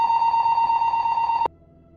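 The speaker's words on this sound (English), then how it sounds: "that was my fire alarm if you heard it" A home fire alarm sounding during a test, a loud steady electronic tone that cuts off abruptly after about a second and a half, leaving a quiet room.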